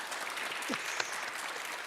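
Applause heard over a Zoom call at a Pearl Jam Women of Empowerment award presentation, a faint, thin, compressed patter of clapping lasting only a couple of seconds.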